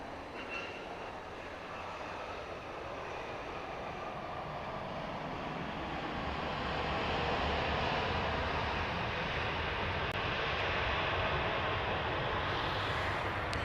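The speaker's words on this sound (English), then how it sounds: "Like 2086 coming in from Colorado Springs, 737-700." A Southwest Boeing 737-700 arrives from Colorado Springs at Dallas Love Field, its broad engine rumble growing gradually louder midway through, then holding steady and fairly near, with no talk.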